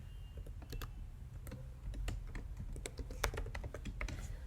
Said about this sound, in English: Let us type our payload here as well.